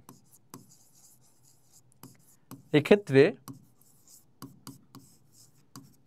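A teacher writes on a board during a Class 11 biology lesson, making short tapping and scratching strokes in bursts, with a brief spoken phrase in the middle.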